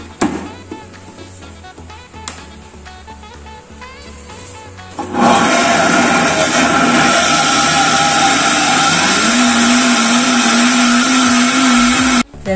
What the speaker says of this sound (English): We just have to blend it until it's smooth.